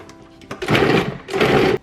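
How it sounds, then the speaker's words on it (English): Leftover Thanksgiving ham ground in a large food processor, two loud steady whirring bursts with a short pause between them, no talking. "I'm gonna add that to my big food processor, and then I'm just gonna grind that up."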